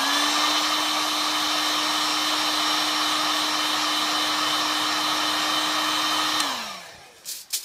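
A heat gun warms Worbla thermoplastic with a loud, steady blowing whine and hum that runs unbroken, then winds down as it is switched off near the end, followed by a few small clicks.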